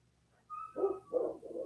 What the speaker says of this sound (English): because of the barking, which may or may not be driving you nuts